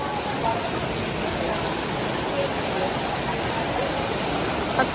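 Steady rain falling in a continuous dense hiss, close and even throughout with no break.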